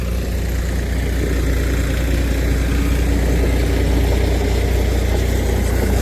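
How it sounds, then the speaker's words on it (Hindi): A 3602 4x4 tractor engine runs steadily at idle outdoors on a potato farm, a loud, close, continuous low rumble with no breaks. "ये देखो 3602 4x4 ट्रैक्टर बढ़िया लगता है"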